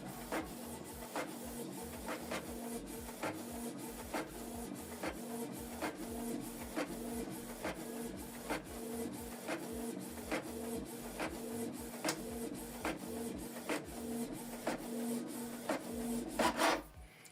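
A Canon Pixma TS3350 inkjet printer prints the second page of a manual two-sided color job, giving off a soft, steady mechanical whir. Regular ticking pulses repeat about every half second, and a brief louder clatter comes at the finish.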